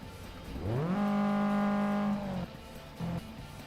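A car engine in a racing game revs up against a lowered rev limiter, climbing quickly and holding a steady, loud buzzing pitch for over a second before dropping off, followed by a brief second blip.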